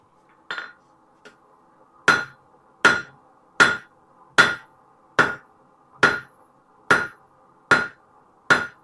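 Hand hammer strikes on hot stainless steel being forged into a fork, a couple of light taps then a steady run of about ten sharp ringing blows, evenly spaced and close by over a quiet hum.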